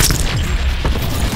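A rocket explosion from a rocket jump in Call of Duty Black Ops 4, a very loud, close, booming blast that saturates the moment with heavy low rumble and crackling.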